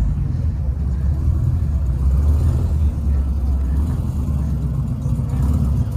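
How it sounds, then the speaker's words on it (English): A classic Porsche rolls in at a Las Vegas Sunday car meet, its engine a steady, moderately loud low rumble with a faint idle-like throb throughout and no distinct revving. "Look at this classic Porsche coming."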